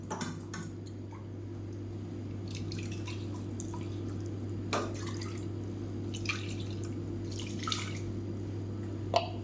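Water is poured over ground rice to rinse it into a cooker, giving soft, intermittent splashes and drips over a steady low kitchen hum, quiet and close.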